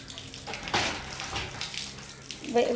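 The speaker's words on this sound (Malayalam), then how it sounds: "വെറുതെ വെള്ളം പോകുന്നു ഇങ്ങോട്ട് വാ" Water gushes from a tap during a bath, a steady close splashing rush with brief voices mixed in.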